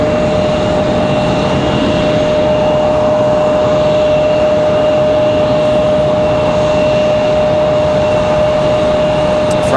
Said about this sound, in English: Frontier looks like they're going to do a little loop here in the taxiway and make their way back around